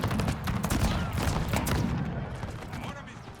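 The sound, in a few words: troops firing guns in the video game Total War Carlist War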